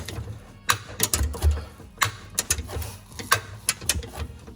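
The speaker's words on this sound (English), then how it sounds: "this is my breaker ratchet. Let's see if it will come out." A breaker ratchet works on an engine mount bolt of a Ford Fiesta ST, giving irregular metallic clicks and clunks close by with short pauses between pulls; no one speaks.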